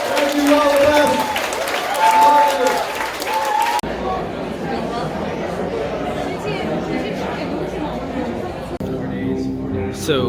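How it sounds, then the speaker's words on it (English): Chatter and scattered applause from a crowd gathered at a presidential debate watch event in Detroit, a steady indoor murmur of many voices with light clapping, especially in the first few seconds. "So this is the crowd left to watch the debate"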